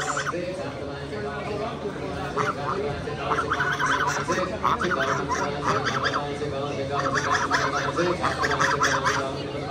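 Geese honk repeatedly amid a busy small animal auction crowd, the calls rising and falling in loud bursts over constant chatter and other animal noises nearby.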